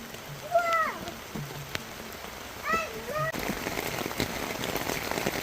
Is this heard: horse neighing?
no